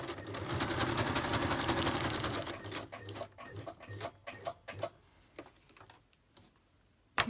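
A close domestic sewing machine runs a zigzag stitch on a paper journaling card in a rapid, even mechanical chatter, then slows into short, uneven bursts with pauses and ends on a single sharp knock.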